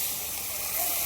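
Dal and its cooking water pour into fried masala in a pan, giving a steady, close broadband hiss and sizzle that holds evenly throughout, with no talking.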